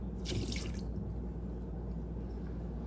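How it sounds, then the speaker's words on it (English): Whole milk is poured into lemon cake batter in a short liquid splash near the start, then fades to quiet kitchen background. "And then we're gonna add our milk, which we have 1/3 cup of whole milk."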